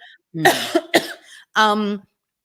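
Several harsh, close coughs in quick succession, followed by a strained, voiced throat sound.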